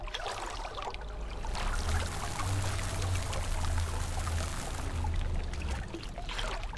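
Water in the video game Puddle streams and pours in a steady, fairly loud rush with a constant trickling texture and no talking over it.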